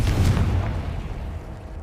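A Confringo spell explosion from the Hogwarts Legacy video game lands as a deep, heavy boom that hits at once and rumbles away over about two seconds.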